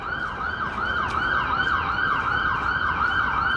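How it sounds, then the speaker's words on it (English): An ambulance siren in Boston wails steadily in a repeating rising-and-falling pattern, loud and sustained throughout, with faint road noise underneath. "Yep. Ambulance siren off."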